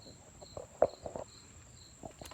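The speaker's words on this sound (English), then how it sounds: "We also have some crickets out here joining us for this lesson." Crickets chirp outdoors as a faint, high, thin trill in the background, with a few soft nearby taps and rustles.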